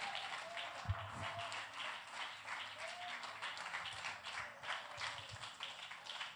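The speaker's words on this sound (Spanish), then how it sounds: "Denle el aplauso a la gloria de Jehová en el día de hoy" A church congregation applauds during a Sunday evangelical service, a sustained wash of many hands clapping at moderate distance with a few sharper taps, continuing evenly throughout.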